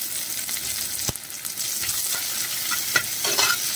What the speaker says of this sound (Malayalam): ഇനി അതിലേക്ക് ഒരു സവാള ചെറുതായി കൊത്തി അരിഞ്ഞത് ചേർത്ത് കൊടുക്കാം